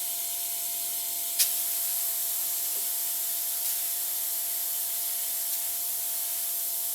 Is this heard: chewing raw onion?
no